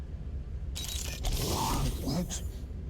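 A door mechanism grinds open in the Guardians of the Galaxy video game, a steady whirring, creaking mechanical rush lasting a couple of seconds over the game's background hum.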